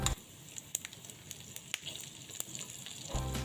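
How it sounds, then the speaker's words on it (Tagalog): Garlic sizzles in hot oil for Ilocano-style dinuguan, a soft continuous crackle with scattered sharp pops, close and fairly quiet. "Tapos ilagay yung bawang"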